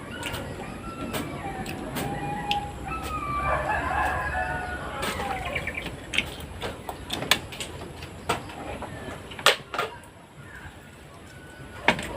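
A rooster crows once from mid-distance, a clear drawn-out call, followed by a run of sharp clattering knocks and bangs, with faint voices in the background.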